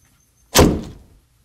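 A door closing in a video being watched, a single sudden thud with a short fading rumble against near silence.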